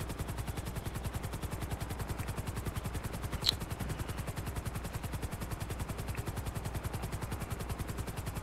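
Helicopter flying in Grand Theft Auto, a steady rapid rotor chop with a rhythmic low thumping, loud and continuous throughout, with one brief sharp crack midway.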